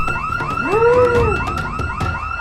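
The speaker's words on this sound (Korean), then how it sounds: "하지만 공장에 들어서자마자 경보음이 울렸고" A factory alarm blares in Project Zomboid, a loud two-tone wailing siren that rises and falls in repeated sweeps, close and unbroken from start to finish.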